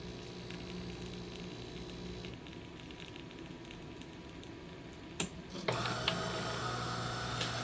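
De'Longhi Dinamica Plus bean-to-cup machine pulling an espresso shot: a quiet, continuous mechanical hum and whir with a faint rattle. Partway through, a click and a louder pump-like drone take over, and no one talks.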